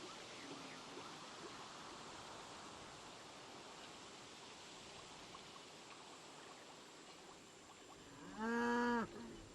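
A large herd of cattle on the open Maasai Mara plain in Kenya, with a steady outdoor wash of background noise and one loud, close moo near the end.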